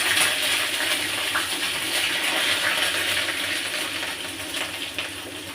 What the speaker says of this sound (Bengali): এবার অল্প করে একটু জল দিয়ে দিলাম।